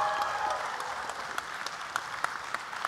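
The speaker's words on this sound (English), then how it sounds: "Come on. Round of applause for these guys." Audience applause at the AVCon 2012 national cosplay championship qualifier, a crowd clapping steadily at moderate distance, dense and even, tapering slightly with a few louder individual claps near the end.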